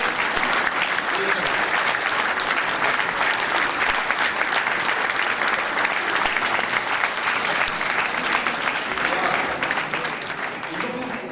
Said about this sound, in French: je vous demande de les applaudir pour les encourager